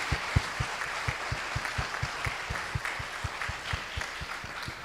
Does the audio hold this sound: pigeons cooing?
no